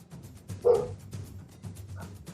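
Dog at home giving a short bark, one sharp yap near the start followed by a couple of softer, fainter woofs, with quiet room noise between.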